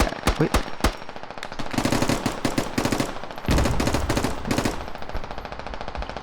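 Gunfire from Squad, a tactical shooter played in a grenadier role, with loud close rapid automatic bursts and single shots that crowd together into sustained volleys.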